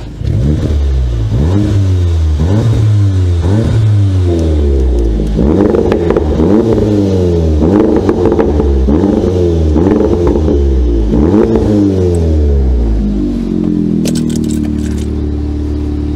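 A Cupra Leon engine revs hard and repeatedly, each rise and fall loud and close, with popping from the exhaust and no talking over it.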